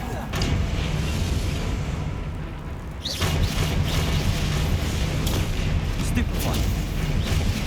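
Bombarda and Confringo explosive spells cast in Hogwarts Legacy, booming magical blasts over a rumbling low-end bed, with a sharp burst partway through followed by further crackling impacts and a voice in the mix.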